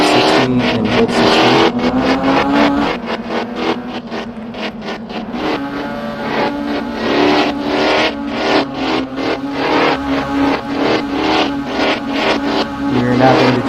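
A race car holding a 60 mph pace speed under yellow on a track, a loud, rapidly pulsing engine note with a constant pitch, droning on steadily with no talking.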